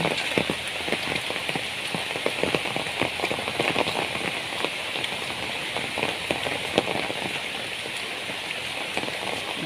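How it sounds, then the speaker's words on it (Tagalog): Steady heavy overnight rain pours continuously, a dense hiss of drops drumming on surfaces with scattered louder splatters throughout. "eto po magdamag na po ang ulan dito sa amin"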